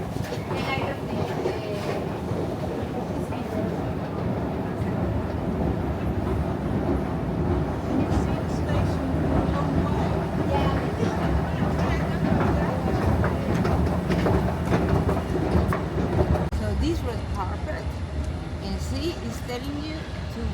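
A train rolls on its rails in Rotterdam, a continuous close rumble with rhythmic clatter throughout, while voices talk over it.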